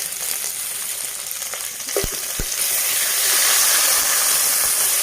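Tomatoes and ivy gourd fry in a pan with a steady dense sizzle that grows louder and brighter toward the end, a few low utensil taps against the pan partway through, and no talking.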